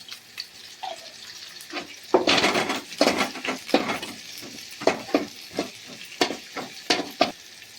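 Ingredients for a chicken sukka are stir-fried in a pan, giving a steady sizzle broken by repeated scraping and clinking strokes of a spoon against the metal, close and clear with no talking.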